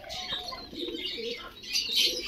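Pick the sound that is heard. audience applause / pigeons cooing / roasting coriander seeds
pigeons cooing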